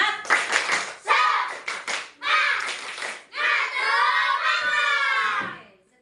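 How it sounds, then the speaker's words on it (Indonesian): A class of schoolchildren claps a rhythmic spirit clap, bursts of clapping mixed with their chanting voices, loud and close, running in patterned groups for several seconds before fading. "kita coba tepuk semangat dulu"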